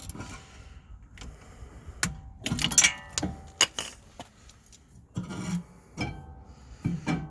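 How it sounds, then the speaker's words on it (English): On a 2016 Ford Flex, pliers twist a rear brake caliper piston back under pressure with scattered rasping scrapes and metallic clicks. The bursts come in uneven spurts between quiet pauses. "Turn it with the pliers and put pressure."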